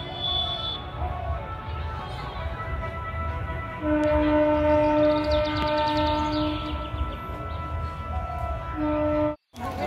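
A train runs along a rail line beside a village road in Rajmahal, Jharkhand, with a steady close rumble and a loud, sustained two-tone horn sounding through much of the stretch. No one speaks.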